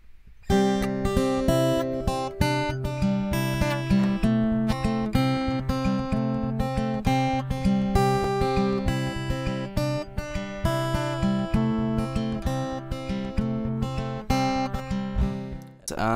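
Fingerpicked acoustic guitar playing the intro of a song, with steady rolling arpeggios and bright ringing strings, close and continuous throughout.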